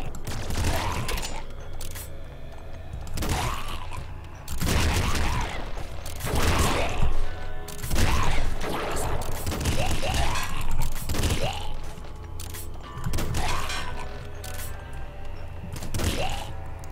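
Dense, continuous rapid gunfire from a heavy machine gun in the video game Nuclear Throne, loud throughout with rhythmic bursts and thuds layered together, no speech.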